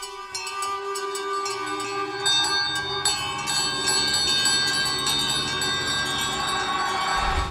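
A bell in a film scene rings out in a steady, sustained peal of bright, layered metallic tones that fill the whole stretch, loud and close, with no voices over it.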